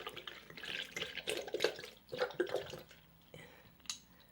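About two cups of almond milk poured into a pot while making plant-based milk, a soft, uneven splashing and trickling that comes in a few faint bursts.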